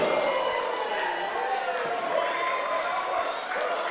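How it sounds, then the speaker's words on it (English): A wrestling crowd in an arena chanting a repeated rhythmic cheer, a steady roaring wash of voices under a commentator talking. "you can hear the woof, woof, woof from this crowd"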